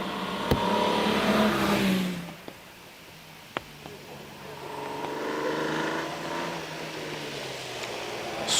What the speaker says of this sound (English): straight six engines make a nice noise, don't they?